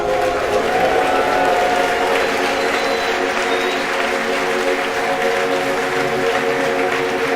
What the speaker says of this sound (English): You can hear the applause behind me as we've gotten past maximum dynamic pressure.